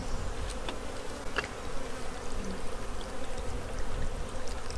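Honeybees buzzing around their newly set-up hive, a dense continuous hum of many insects close by, with individual bees zipping past now and then.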